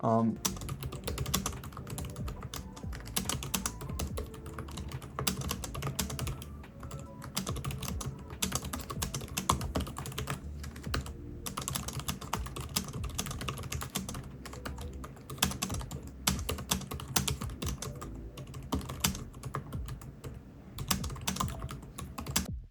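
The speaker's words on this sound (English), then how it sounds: "So the keyboard, I love the keyboard." Continuous rapid typing on an ASUS ROG Zephyrus G16 laptop keyboard, quiet clicky keystrokes pattering steadily without pause.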